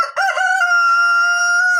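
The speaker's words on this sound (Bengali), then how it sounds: "মোরগ মুরগি ক্রয় করতে পারেন" A rooster crows one long, loud, close call, with a brief hen cluck just before it starts.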